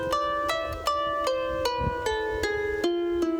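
Musical scale reconstructed from Hebrew cantillation marks, played as a slow series of sustained melodic notes on a sampled instrument over a low drone, each note entering with a soft attack and stepping downward, with no voices.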